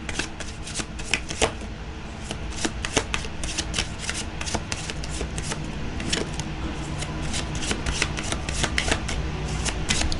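Oracle guidance cards are shuffled in a quick, crisp run of repeated riffling snaps, close and fairly quiet, with no talking.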